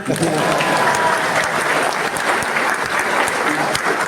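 An audience at an alumni reunion speech breaks into sustained applause, a steady wash of many hands clapping, with voices in the crowd mixed in underneath.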